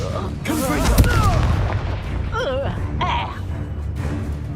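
Confringo, a fire spell in Hogwarts Legacy, bursts with heavy booming blasts over a continuous rumble while a voice shouts spell names.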